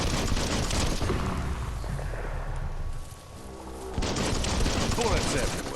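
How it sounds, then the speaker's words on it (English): Dense gunfire from the video game Biomutant rattles in near-continuous bursts, loud and close, dipping briefly before resuming at full intensity. "Bullets everywhere."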